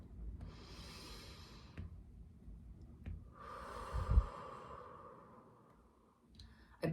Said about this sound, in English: And then you just breathe. Longer out breath than in breath.